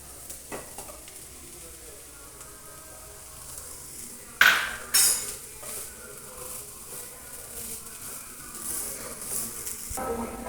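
Green chilies go into a pan of sautéing onions and carrots, giving a soft, steady sizzle with stirring scrapes and two sharp, bright crackles about halfway through before the frying settles again.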